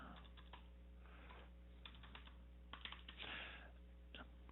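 Keys clatter on a computer keyboard in short, quiet bursts of soft clicks, close by and faint over a steady low electrical hum, with no speech.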